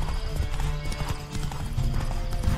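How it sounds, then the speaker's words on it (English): A horse gallops in The Witcher 3 video game, rapid rhythmic hoof clip-clops pounding close and loud over wind rush, with a brief snort or whinny. "I'm not using Roach when I'm riding this horse right now"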